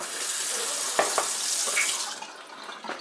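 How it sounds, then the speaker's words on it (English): Running water from a tap splashes steadily into a colander of brassicas in a sink, with soft clatters of vegetables being washed and no talk. "I just happen to use this colander right here to get things strained, get things washed out."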